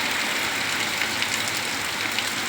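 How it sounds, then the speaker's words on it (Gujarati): Steady, dense hiss of heavy rain falling continuously, loud and even, with no voices. "આજે અમારા ભાવનગર જિલ્લાની માલિપા ખૂબ જ સારો વરસાદ આજે થઈ રહ્યો છે"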